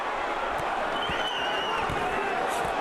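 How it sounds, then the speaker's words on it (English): Boxing arena crowd at a heavyweight fight grows riled up, a steady dense roar of many voices with scattered shouts throughout, distant and continuous. "Crowd getting riled up."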